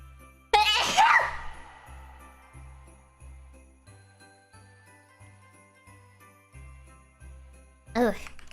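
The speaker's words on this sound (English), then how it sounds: "I think I have to sneeze." A person lets out a sharp, loud sneeze near the start and a second, shorter burst near the end, over a soft, regularly pulsing background tune.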